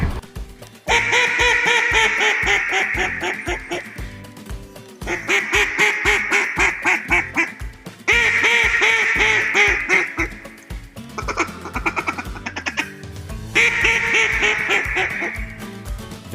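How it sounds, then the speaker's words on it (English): Hen mallard quacking from a recording, then an Edison duck call blown in the big woods of Arkansas, both loud and close: strings of rapid, descending quacks in several bursts with short pauses between. "First, a hen recording, and then the Edison in the big woods of Arkansas."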